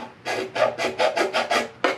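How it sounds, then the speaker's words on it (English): Round file worked back and forth across a plastic radiator extension cover for a 2020 Mustang EcoBoost, giving about eight quick, even rasping strokes, close and loud, with no voices. "I just got like a round file here"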